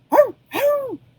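A dog lets out two close, loud howling barks, each rising then falling in pitch, with a short gap between them and no other sound around.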